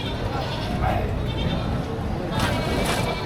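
Amid steady market chatter, goats at a livestock market let out a couple of wavering bleats, one near the start and another toward the end, as people talk nearby.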